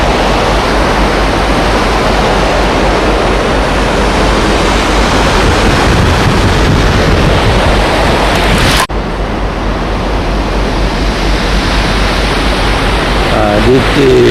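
Steady, dense rush of the Saguenay River in Canada flowing on a September morning, a continuous close roar with no distinct splashes, briefly dipping for a moment partway through.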